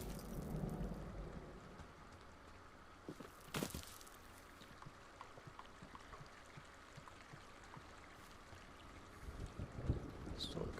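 Video game thunderstorm: a continuous rain hiss with low rumbles at the start, a sharp loud crack of thunder near the middle, then rain and a rising rumble toward the end, with no voices.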